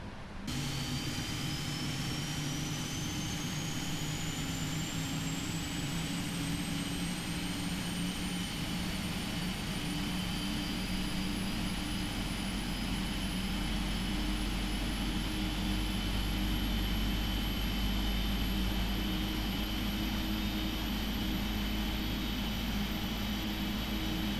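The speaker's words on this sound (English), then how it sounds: "Engine number 1, engine number 2 even is started, so let's get engine number 1 going." Jet engine spooling up on a Boeing 777-300ER in a flight simulator, a steady broad roar with a rising high-pitched whine climbing gradually across the whole stretch, continuous and even, without voices.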